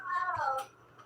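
Pet cat gives a single short, close meow that slides downward, followed by a faint trailing sound in a quiet room.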